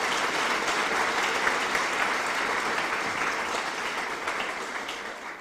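A preview party crowd in Lake Mills gives a long, steady round of applause that holds loud and dense throughout, easing only slightly toward the end, with no voices standing out.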